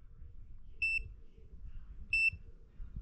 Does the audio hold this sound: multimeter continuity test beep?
yes